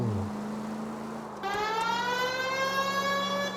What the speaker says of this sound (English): That siren's annoying.